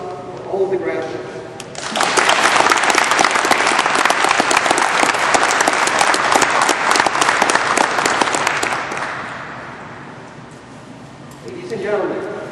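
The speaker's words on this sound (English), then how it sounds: "please join me in a round of applause for all of the graduates." Loud, sustained applause from a large audience honouring graduates at an Army aviation graduation ceremony at Fort Rucker, Alabama, swelling after a brief spoken lead-in and holding steady for about seven seconds before fading.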